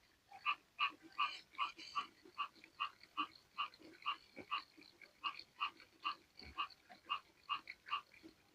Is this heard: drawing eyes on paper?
no